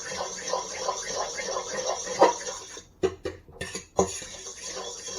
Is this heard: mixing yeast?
yes